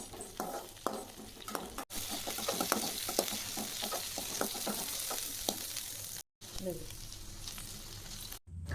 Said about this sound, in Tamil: கொஞ்சமாக எண்ணெயை ஊற்றி அதில் நம்ம வெண்டைக்காயை ஃபஸ்ட்டு வதக்கிடலாம்.